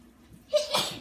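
A single close sneeze from a person indoors, a sharp burst that follows a brief intake of breath and cuts through quiet room tone.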